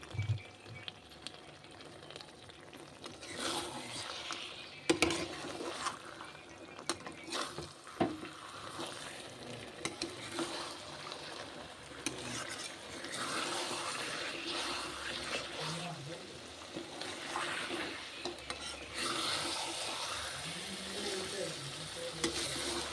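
Mutton stir-fries in oil with turmeric, a persistent sizzle and bubbling under repeated scraping and knocks of a spatula against the pot, louder in bursts as the meat is turned; a few faint voices come and go.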